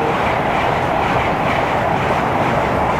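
A fast train rushes through Southall station in London, a continuous loud roar of wheels and rail noise filling the whole stretch, with faint rhythmic clatter and no voices.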